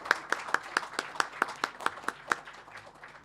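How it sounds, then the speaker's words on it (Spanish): Conference audience clapping after a talk on agricultural taxes, a short round of sparse, rhythmic claps at a steady pace, fading slightly toward the end. "Así que pido un fuerte aplauso nuevamente por la exposición para Santiago."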